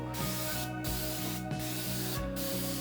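Paint sprays from an aerosol can's nozzle in a steady hiss, broken by three short gaps as the nozzle is released and pressed again, with a faint mechanical hum beneath, close and without voices.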